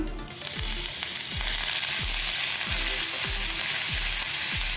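Cumin, dried red chilli and coriander sizzle in a hot tadka with hing, meant for a spicy dhaba-style dal. A loud, steady frying hiss runs throughout, cut by regular, evenly spaced scraping strokes of a ladle.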